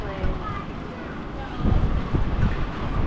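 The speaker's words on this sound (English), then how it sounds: "today is a bit windy, it's a bit cold" Wind blows through Blackpool town centre, buffeting the microphone with low rumbling gusts that swell and fade over a few seconds, against a steady outdoor background.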